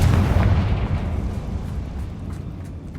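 A Confringo fire spell in Hogwarts Legacy bursts into a loud, booming blast at the start. Its rumble then fades across three seconds into a crackling tail, and no voices are heard.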